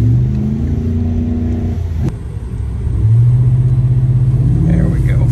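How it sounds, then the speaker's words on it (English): A car revs and spins through donuts in a snowy parking lot with traction control on, the engine droning steadily, dipping briefly, then climbing again, loud and close throughout, with a voice talking over it. "there's almost too much snow to do donuts"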